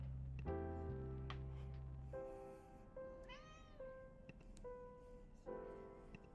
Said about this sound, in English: she's right next to me meowing